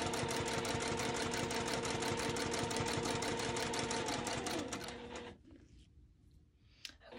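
A sewing machine stitching a fabric appliqué, a steady fast mechanical run of stitches close up that slows and stops near the end, leaving quieter handling sounds.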